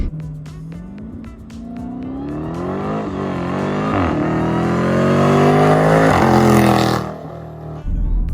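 A loud, throaty engine of a Dodge Hellcat/SRT with the mid muffler removed revs hard and accelerates through rising pitch, rough and unmuffled, then cuts off abruptly near the end.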